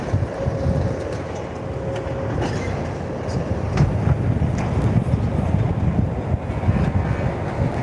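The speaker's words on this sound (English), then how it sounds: "the wind is actually really doing my head in at the moment" Strong outdoor wind buffets the microphone during a live police station demolition in Blackpool, a continuous low rumbling roar throughout with a faint tonal hum early on.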